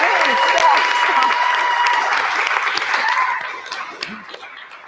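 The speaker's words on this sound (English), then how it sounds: "the applause, please," Loud audience applause at a startup interview event, dense clapping with a little laughter that fades and thins out toward the end.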